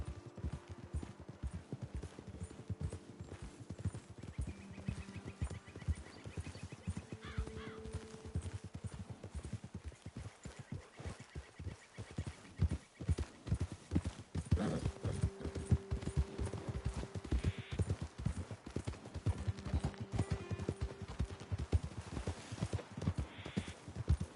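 Steady clip-clop of horse hooves trotting in Red Dead Redemption 2, with an occasional whinny over a low ambient backdrop, continuous throughout.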